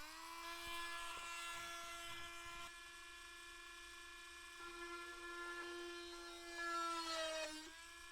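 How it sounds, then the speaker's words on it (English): Rotary tool grinding soft balsa wood on an RC plane build, a sustained high whine that holds steady for about eight seconds, dipping and shifting in pitch as it bites, with a short louder surge near the end; no talk. "I'm just going to go ahead and use my roto tool again"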